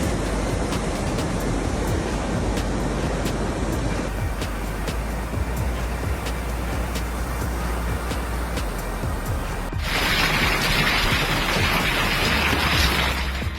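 Heavy rain from a ferocious storm, a dense, steady roar of downpour throughout, growing harsher and brighter in the last few seconds, with no voices.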